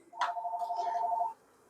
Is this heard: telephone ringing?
yes